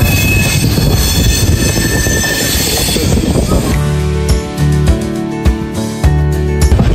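A passenger train running past Etawah station toward Agra rumbles loudly with a high wheel squeal, then shifts to a rhythmic clack of wheels over rail joints, heard from on board with no talk.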